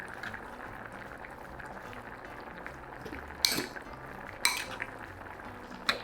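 Foul with black pepper and salt is stirred in a pot, a soft low scraping with a few sharp metallic clinks of a utensil against the pot.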